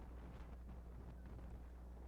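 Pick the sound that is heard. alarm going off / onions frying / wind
wind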